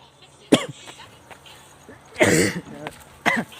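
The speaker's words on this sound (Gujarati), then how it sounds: "ઉધરસ થઈ ગઈ." A person coughs outdoors in three harsh, separate bursts, with the longest one in the middle. Quiet background sounds fill the gaps between them.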